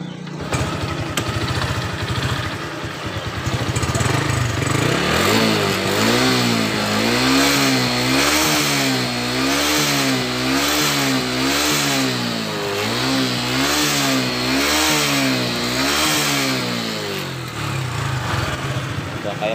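A new fuel-injected Supra X 125 motorcycle with a smoking, oil-burning fault revs close up, its engine note climbing and falling in a steady wavering cycle after an idle start, with no talking.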